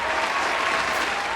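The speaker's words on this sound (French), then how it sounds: "Je crois là que je mérite des applaudissements." Applause fills the whole stretch as a dense, steady wash of many hands clapping at close range, with no pauses or voices.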